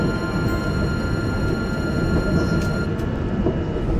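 Steady low rumble of a moving train in western France between Rennes and Nantes, with constant broadband rolling noise and faint high tonal hum, no voices.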